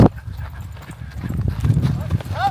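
A spooked horse breaks from a lope into a run, its hooves pounding in a steady rhythm close by while people talk over it; the loudness builds toward the end.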